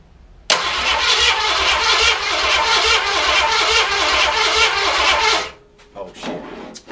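A car engine cranks continuously for about five seconds with a loud, even, rapid chugging from the starter, then cuts off, followed by brief faint rustling.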